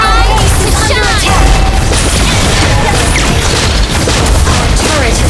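Turret being destroyed in a MOBA battle, a loud dense barrage of booms and crashes with swirling effect sounds throughout, constant and close.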